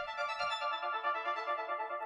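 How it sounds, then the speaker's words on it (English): A bright, buzzy synthesizer plays a fast, rapidly cycling pattern of notes, sustained and even throughout, with nothing else around it. "So I went here and brought in an ARP, which sounds like this."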